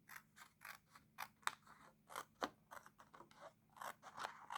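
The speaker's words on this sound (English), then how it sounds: "We're going to cut this all the way" Scissors cutting paper for a stamped Easter bunny chocolate egg treat holder, a close, quiet series of crisp snips and slicing scrapes in an uneven rhythm, with no voices.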